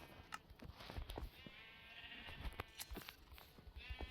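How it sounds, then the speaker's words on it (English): Sheep bleating in the Minecraft video game, several short bleats repeating at a low level over a faint background. "if your sheep wants to eat grass before, like while it is a dirt block"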